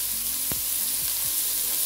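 Skin-on chicken frying in a little olive oil in a pan, giving a steady, close sizzle with a few sharp pops and clicks.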